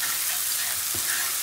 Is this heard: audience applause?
no